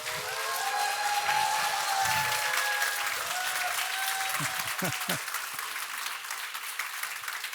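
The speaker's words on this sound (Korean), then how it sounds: "또 나오실 때 우리 큰 박수로 환영하도록 하겠습니다" Big applause from a church congregation at a Sunday worship service welcoming a speaker to the stage; continuous, dense clapping throughout, with a voice briefly heard over it.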